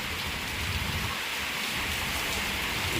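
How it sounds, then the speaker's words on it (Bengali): Heavy rain pours down at dawn in a steady, dense hiss of drops striking surfaces nearby, loud and unbroken throughout with no voices. "ভোরে ঘুম ভেঙে দেখছি যে বৃষ্টি আবার এত জোরে হচ্ছে"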